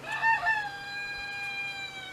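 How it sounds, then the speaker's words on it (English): A rooster crows once, loud and close, the call trailing off into a long drawn-out note over quiet background. "Get out here and the chickens start crowing, or the roosters"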